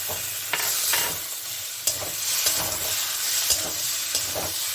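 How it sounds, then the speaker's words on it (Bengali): Spice masala frying together with jackfruit in a pan sizzles continuously up close, punctuated by several sharp spatula clacks and scrapes at irregular intervals. "এটার সঙ্গে এটাকে আবার আমি ভেজে নেব।"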